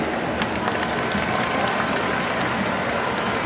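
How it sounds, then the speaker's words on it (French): Dense, steady applause from a crowd at a political rally honouring the president in Korhogo, in the Savanes district of Ivory Coast, with sharp clap transients filling the whole stretch at constant loudness. "cela devrait s'applaudir"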